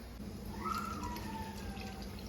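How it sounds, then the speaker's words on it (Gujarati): Water pours steadily into a cooking pot of dal pulao, a soft continuous trickle with a faint rising tone, fairly quiet and close, with no talking. "હજી પાણી જોઈશે થોડું થોડુંક આપણે પાણી નાખીશું"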